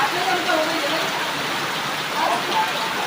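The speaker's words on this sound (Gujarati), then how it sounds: "વરસાદ આવ્યો" Heavy rain pouring down in a rural farm setting, a dense continuous hiss of drops striking surfaces, steady and close throughout.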